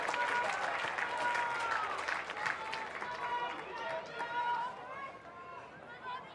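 Football fans cheering at a stadium during a Canberra United versus Wellington Phoenix A-League match, a steady, broad crowd roar with clapping that fades slightly toward the end, under a commentator's voice.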